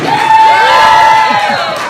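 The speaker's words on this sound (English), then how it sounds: "You're not cheering that, are you really?" A large crowd cheers, whoops and shouts loudly and continuously at a Bernie Sanders get-out-the-vote campaign rally, with a sustained roar and no pauses.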